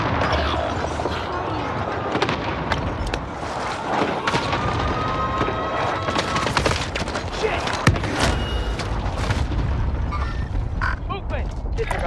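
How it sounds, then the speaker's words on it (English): Cluster strike explosions in Call of Duty Warzone, a dense series of booms and crackling blasts rolling on steadily, with game sounds and voices mixed through the whole stretch. "Cluster strike incoming. Take cover."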